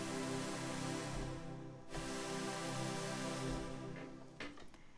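A super saw synth pad preset built in Native Instruments Massive, sustained and thick with a bright, buzzing wash, holding one long chord with a brief dip midway before fading slightly at the end.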